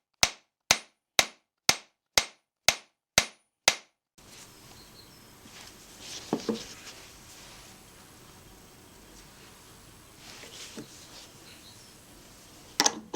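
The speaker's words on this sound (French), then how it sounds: "Il suffit tout simplement de taper dessus avec un marteau, un petit peu en arc de cercle" A small hammer strikes a peening anvil while a scythe blade is beaten, eight sharp metallic blows in an even rhythm, close and loud, followed by quieter room noise with occasional knocks.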